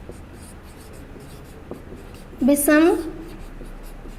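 Faint scratching of a pen writing a math matrix solution by hand, soft strokes continuing quietly while someone briefly speaks in Hindi partway through.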